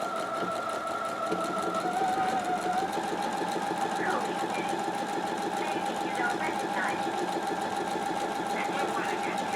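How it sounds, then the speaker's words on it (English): A Husqvarna sewing machine with a buttonhole foot stitches a buttonhole on stabilized fabric, its motor humming in a fast, steady mechanical chatter that runs close and constant, with pitch shifts as the stitch changes. "So let's try it again, see if we can do another buttonhole perfectly."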